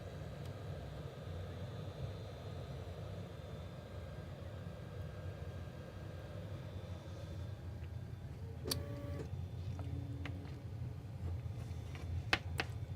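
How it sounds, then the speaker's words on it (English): A 3D printer runs through a steady low mechanical hum with faint ticking, joined midway by brief higher whirring stepper tones as the print continues. "Definitely not recording a video with the 3D print going."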